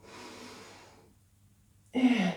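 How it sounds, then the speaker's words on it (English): Deep yoga breaths fill a quiet room: a long soft exhale fades into silence, then a louder, sharper breath starts near the end, close to the microphone. "Breathing in"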